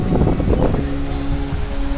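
Water pours at Rainbow Falls near Kerikeri, where a breakwater slows the flow, as a loud, steady rushing wash with wind buffeting the microphone.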